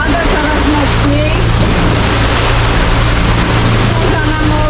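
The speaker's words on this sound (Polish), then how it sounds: "Pada coraz mocniej." Heavy rain pours onto a sailing boat in mid-Atlantic during a storm, a loud, dense, unbroken hiss with a low rumble underneath, steady throughout.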